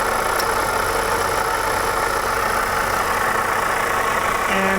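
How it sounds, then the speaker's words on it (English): A car engine idles with a steady, even rumble and whine, loud and close, with no change in speed and no talk, heard while tracing engine noises under the hood. "So we're going to go ahead and start the engine right now."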